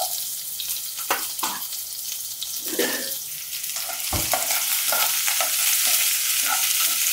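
Onions fry in hot oil for a Madurai-style fish curry with a steady sizzle, broken by scraping stirs and clinks of a utensil against the pan.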